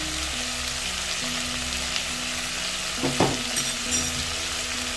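Chicken sizzles and fries steadily in a pan as vegetables go in (coriander stems, tomatoes, garlic, onions), with a brief burst of stirring and scraping clatter near the end, no talking.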